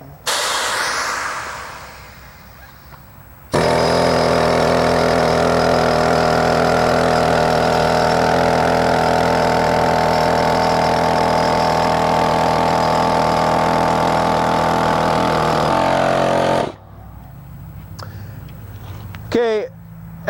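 A rock drill bores into a slab, a loud, continuous hissing, pneumatic roar with a steady pitched drone that starts abruptly, runs unbroken for about thirteen seconds and then cuts off. Quieter machine noise remains before and after.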